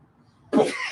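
One sharp, close sneeze bursting out after a near-silent pause, loud and breathy, with a short noisy tail.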